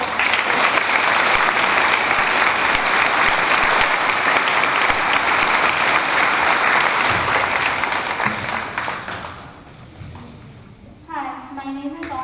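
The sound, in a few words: audience applause at veterans ceremony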